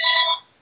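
A telephone bell ringing once, a bright electronic tone lasting about a third of a second, then a brief gap before the next ring starts, loud and close.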